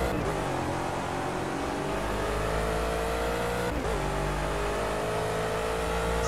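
A Gumpert Apollo S race car in Project CARS at the Nürburgring, its engine droning loud and steady throughout with a sustained high rev and a brief dip in pitch midway.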